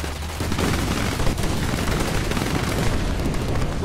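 Video game gunfire rattles in a dense, continuous barrage mixed with booming blasts, loud and close, with no pause for the full stretch.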